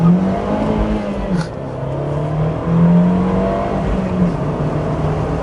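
A 2017 Fiat 124 Spider pulling away from a red light, its engine droning loud and near as revs climb, dip briefly at a shift, then rise again in a strong steady pull.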